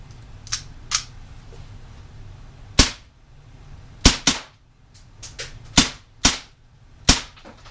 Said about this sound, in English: we're just going to take a couple shots in semi, and then we'll dump the clip in full auto at the target here